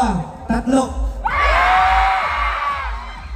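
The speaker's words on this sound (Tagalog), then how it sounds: "isang malakas na sigaw" A crowd at the MMFF 50 Parade of Stars lets out a loud, sustained collective shout lasting a couple of seconds, following a few brief excited voices.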